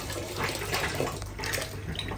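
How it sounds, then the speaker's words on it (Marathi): Water runs from a tap into a tub, a continuous splashing, rushing stream that stays fairly loud and even throughout. "पाण्याचा आवाज येतो का?"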